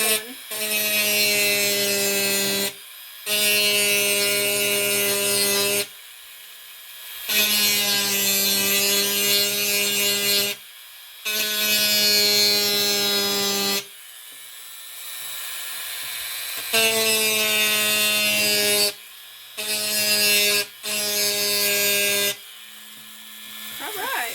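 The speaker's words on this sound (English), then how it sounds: "Dremel, you were wonderful" A Dremel rotary tool grinds on a bracelet in a steady high whine, running in repeated bursts of a few seconds with brief stops between them, close and fairly loud.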